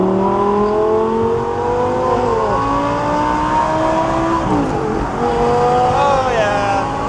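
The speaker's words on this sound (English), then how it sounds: "It's gonna be the first time hearing the Valvetronic exhaust actually under load in this car." A gated Audi R8 V10 with a Valvetronic exhaust pulling hard under load, its loud engine note climbing steadily through the revs, dipping at a gear change, then rising again, heard close from inside the car.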